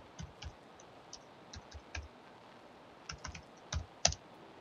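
Keys tapped on a computer keyboard while typing a Minecraft game command, scattered quiet clicks in short irregular bursts with a sharper final keystroke, close up in a quiet room.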